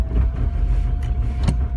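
A car engine idles nearby with a low, uneven rumble, steady across a brief stretch with no talking.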